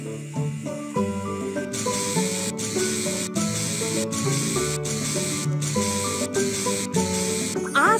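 A continuous buzzing, spraying hiss of a shaving effect in a kids' animal hair salon game runs over cheerful game music, with periodic short breaks in the rasping sound.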